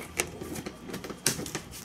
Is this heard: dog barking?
no